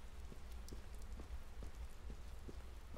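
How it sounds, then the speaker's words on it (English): Steady rainfall pattering down in the Silent Hill Downpour video game, with regular soft drop impacts over a continuous low wash, no voices present. "Oh, it's starting to rain."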